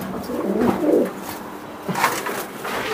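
Lotan pigeon cooing nearby, a few soft low rolling coos in short bursts, with no speech.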